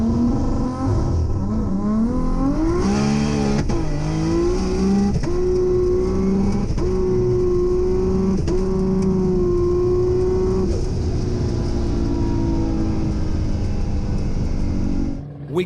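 Highly tuned Nissan Skyline GT-R R32 cars launch down a runway in a drag race, engines revving hard and loud through rising gear pulls with a steady roar.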